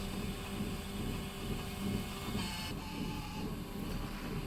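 An iDGSP 3035 UV printer runs with a continuous mechanical whir and hiss, steady and close, with a slight change in tone partway through.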